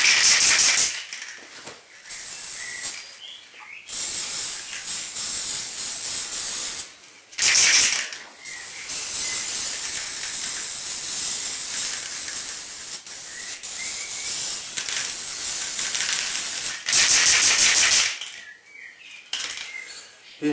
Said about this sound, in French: je sais pas si j'en ai encore beaucoup de peinture dans la bombe